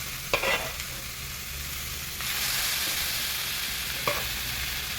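Jackfruit puzhukku stirred in a cooking pot, a few scraping strokes of a spoon over a soft, steady sizzle, close up and without any voices.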